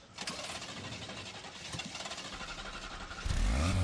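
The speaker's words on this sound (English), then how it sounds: "Start the engine, please." A car engine in The Grand Tour racing video game cranks and fires up, a steady throaty churn building into a louder rumble as it catches near the end, heard alone at moderate volume.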